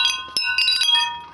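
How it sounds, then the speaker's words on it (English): Metal wind chime bells in a garden food forest ring in several bright, overlapping strikes with sustained tones, close and clear with no voices. "love the bells."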